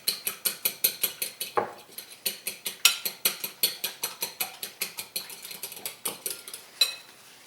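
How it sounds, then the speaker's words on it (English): An egg being beaten with a fork in a bowl for scratch pancakes, a rapid, regular series of close metallic clicks and taps against the dish, about four strokes per second, with no talking. "you always want to get that egg just a little mixed up"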